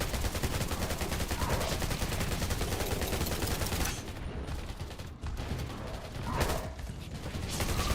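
Automatic gunfire rattles in fast, regular bursts in the mobile shooter Undawn. The shooting is continuous, with a few short pauses and tail-offs among other game sounds.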